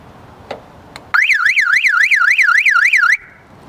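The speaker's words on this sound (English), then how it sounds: "When we push boost, the alarm might go off" A truck's car alarm goes off after a Micro-Start jump-starter's boost button is pressed, a loud, close electronic siren warbling rapidly up and down for about two seconds after a couple of faint clicks, then cutting off.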